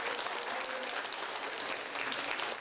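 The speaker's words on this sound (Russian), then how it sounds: "После финального выступления зрители еще долго аплодировали участникам" An audience applauds performers of a folk ensemble after a final concert number, dense sustained clapping filling the hall that continues throughout and fades at the end.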